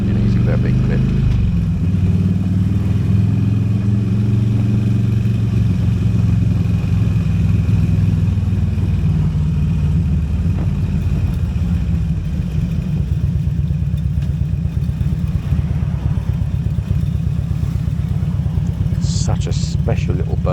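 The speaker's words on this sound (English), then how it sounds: "Such a special little burble, isn't it, from the Harley V twin." A Harley-Davidson Road King 100th Anniversary Edition V-twin burbles continuously while being ridden, a loud, low, uneven rumble that rises slightly early on and then settles into a steady drone with some clatter.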